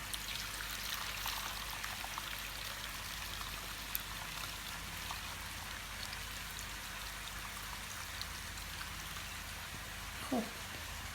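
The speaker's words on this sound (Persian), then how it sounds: "حالا آبش رو صاف میکنم من" Broth strained off simmered lamb shanks for ghormeh sabzi, a soft steady pour and trickle of liquid that runs on for several seconds, faint and close, with a brief clink near the end.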